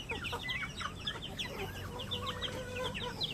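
Rhode Island chickens and turkey chicks cluck and chirp in a busy, overlapping chorus, with steady farmyard background noise throughout.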